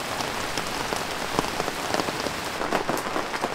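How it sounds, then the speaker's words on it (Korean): Heavy rain pours onto a very large inflatable air tent at a campsite, a dense, steady, loud patter with scattered sharper drops throughout and no voices. "비가 또 미친 듯이 내리기 시작했어요."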